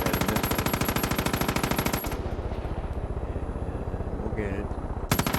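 Rapid automatic gunfire from a Far Cry 5 shooter game, loud and steady bursts of machine-gun fire with a pause mid-way, while someone speaks briefly over it.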